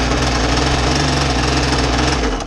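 A Zenoah 30cc gas engine runs steadily at an unset idle, a dense, loud, continuous buzzing drone that holds level throughout and dips slightly at the very end, with no voices.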